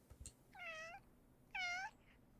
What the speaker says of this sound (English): Was that a meow?